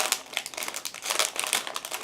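A sealed plastic bag holding 1/72 scale Modelcollect model kit frames is torn open and handled, giving dense, continuous crinkling and crumpling at close range with no voices.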